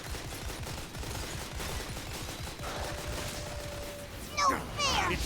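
Rapid bursts of automatic gunfire in a shooter video game, a dense continuous rattle with a sharp burst near the end, heard alongside voices talking.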